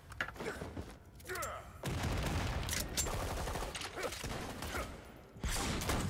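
Handgun skills firing in a video game: dense, rapid gunfire bursts that pile into a continuous loud barrage with brief gaps, close and busy, with no clear talking.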